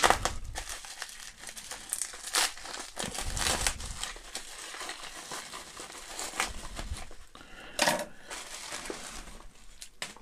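A parcel heavily wrapped in sellotape is cut and torn open, giving busy crinkling, crumpling and ripping of tape and packaging throughout, with a few sharper tearing bursts.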